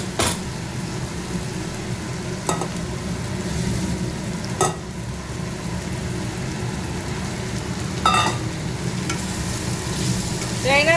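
Paneer and potatoes sizzle and crackle in oil-released spice masala in a non-stick kadai, with the food sticking to the pan. A steady hiss runs throughout, broken by a few sharp scraping stirs of a spatula.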